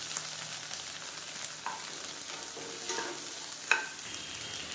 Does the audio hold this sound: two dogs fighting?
no